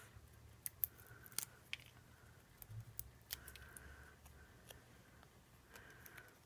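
Scissors snip through card paper for a card, a few quiet, separate crisp cuts with soft handling noises between them, close and faint with no talk.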